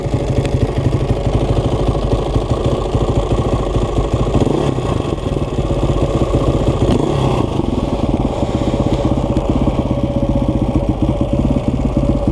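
A geared-up two-stroke motorcycle engine idles steadily and a little high, close by, its rapid ringing putter continuous and loud throughout with no voices.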